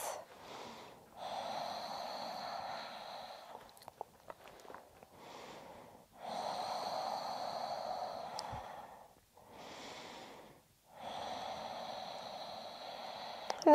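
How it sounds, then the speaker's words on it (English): Slow, deep breaths during a yoga shoulder-release exercise, close and clear, each long inhale or exhale lasting a few seconds with short pauses between, with no talking. "keep your steady, deep breaths, nice and slow"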